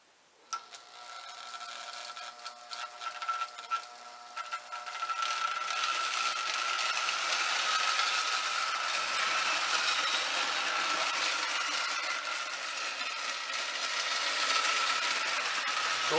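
A Marx No. 999 toy train engine runs with its wheels spinning for traction against the track. After a few faint clicks, a thin mechanical whir starts and then holds steady and quiet.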